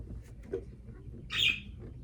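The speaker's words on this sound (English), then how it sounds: "My birds are going to be really loud, by the way." A pet bird gives a short, bright chirp nearby in a bedroom, and fainter soft calls sit against quiet background noise.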